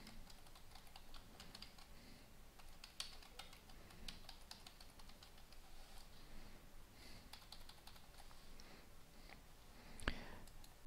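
Fast, quiet keystrokes on a computer keyboard as link text is typed, a continuous patter of soft clicks over low background hiss with one sharper tap near the end.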